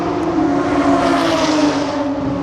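Corvette race car passing on the Sebring track, a loud, steady engine roar swelling as it goes by, heard alone without talk.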